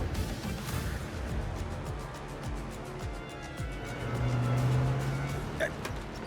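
A car driving with its engine rumbling low and steady, rising slightly toward the end, in a comedy film scene, with voices and other background sounds over it.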